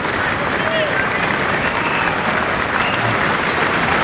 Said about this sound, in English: Applause from all his teammates.